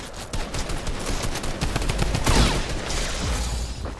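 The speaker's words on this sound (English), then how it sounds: "Keep on shooting him, keep on shooting." Dense automatic and repeated gunfire in the video game Fortnite, a continuous rattling fusillade with sharper bursts around the middle, loud and steady throughout with no talking over it.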